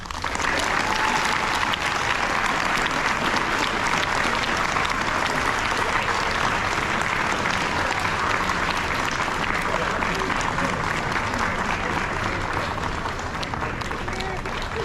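Dense, steady applause from a large audience at an eighth grade awards ceremony at Chaparral, continuous and loud for the whole stretch with no break.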